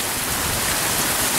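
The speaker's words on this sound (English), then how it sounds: "it's so much rain coming down, it's going out the other gutter too." Heavy rain pours down steadily outside a house, overflowing the gutters, a loud, dense, unbroken hiss of water with no gaps or voices.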